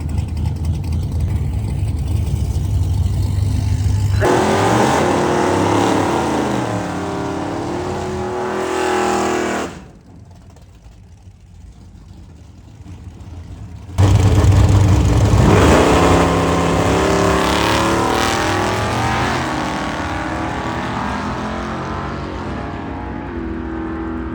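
An LS-powered Chevrolet C10 makes a single run down a drag strip, its engine roaring loud and close as it revs hard with rising gear pulls and a brief drop-off mid-run before it screams again.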